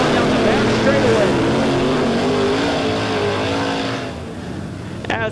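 Late model stock cars race side by side down the back straight of a dirt oval at Lebanon Midway during a Cash Money Late Model Series heat, engines roaring loud and close, then fading, under a track announcer's commentary.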